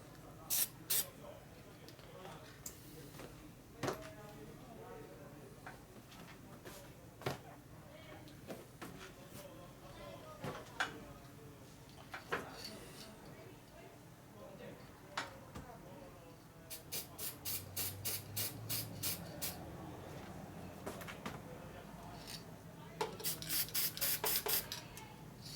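A spray can puts a light fog coat of paint on a custom Harley bobber part in short hissing bursts between quiet handling sounds, with a longer run of rapid spray pulses near the end.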